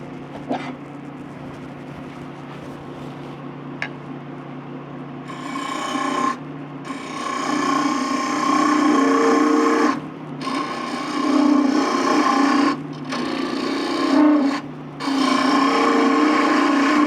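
A woodturning lathe hums quietly before a tool bites into a spinning wooden pencil pot being hollowed, giving a loud rasping, scraping cut that comes in several long bursts separated by short pauses.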